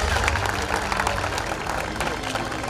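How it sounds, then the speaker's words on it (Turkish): Applause rolls through a crowd at a beach volleyball trophy ceremony on Ören Beach, a continuous moderate clapping under a voice. "Alkışlar eşliğinde."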